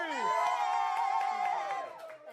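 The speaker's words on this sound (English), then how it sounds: "That was a lot of applause" Studio audience on a South African TV show cheering and whooping in a sustained, fairly loud burst that tapers off near the end.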